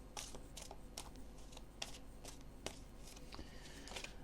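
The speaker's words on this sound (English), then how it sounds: "As I'm shuffling the cards" Tarot cards being shuffled by hand close by, giving a dense run of papery riffling clicks and flutters with a few sharper snaps, with no talking.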